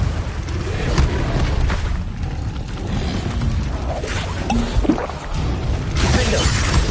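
A Confringo fire spell blasting in Hogwarts Legacy, heard as dense crackling bursts and rumbling impacts amid continuous battle noise, with sharper explosive hits near the start and end.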